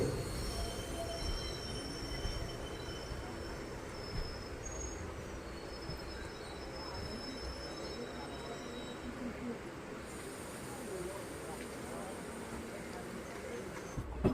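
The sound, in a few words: passenger train departing Nileshwar railway station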